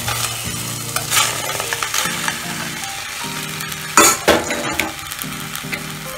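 Boiled raw mango is stirred in a pan on a gas stove for jelly, with repeated scraping strokes of a spoon against the metal and soft bubbling, plus a few sharp clinks, close and loud.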